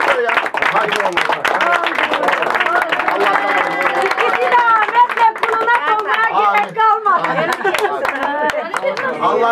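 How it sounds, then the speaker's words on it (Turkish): Wedding guests clap in a lively, crowded room, sharp handclaps mixing with chatter and overlapping voices of people talking close by throughout. "Bir alkış alalım"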